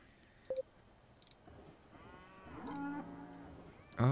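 Cows in the McDonald's video game moo in short and drawn-out calls, mixed with brief clicks and electronic blips, fairly quiet at first and growing louder toward the end.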